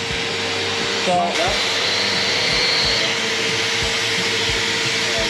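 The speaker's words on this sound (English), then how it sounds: "we're just going to drill and vacuum" A vacuum runs continuously during drilling work with a steady droning hum and high whine, while a person speaks briefly over it.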